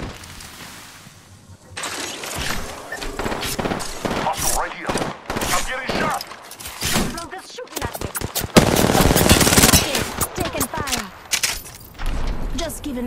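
Apex Legends gunfire crackles in rapid bursts and short automatic volleys, loud and close, with breaking-glass-like shattering and pauses between strings of shots, while players talk over the action.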